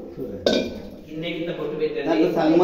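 A milk vessel is set down for a Satyanarayana vratam puja, giving one clear metallic clink near the start, followed by softer handling knocks under ongoing talk.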